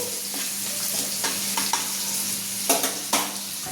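Chopped onion frying in a pan for eggplant bharit, a steady close sizzle with occasional spoon scrapes and light taps as it is stirred, no voices.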